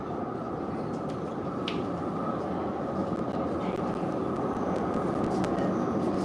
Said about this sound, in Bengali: এই যে মেট্রো এসে গেছে দেখেন এটা হলো মানে চালকবিহীন মেট্রো